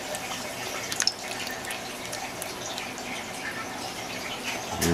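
Flood coolant gushes from a 1/2-inch nozzle on a Tormach PCNC 1100 mill, a continuous splashing, trickling water sound at moderate level with occasional drips and no talking.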